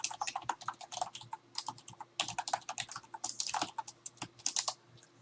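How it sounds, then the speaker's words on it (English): Fingers tap rapidly on a computer keyboard nearby, producing a quiet, busy patter of clicks in uneven bursts with short pauses between them. "I am good at typing."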